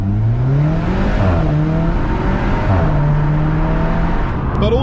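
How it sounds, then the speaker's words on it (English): Alfa Romeo 4C accelerating hard in first gear on an empty runway: the engine note climbs loudly in repeated rising sweeps as revs build and shift, close and unbroken, with no voices. "let's just give you a little first gear acceleration"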